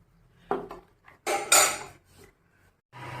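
Fried jackfruit-flower fritters go onto a plate from a strainer: one light clink, then a louder cluster of metal-on-plate clatter and scraping, followed by quiet.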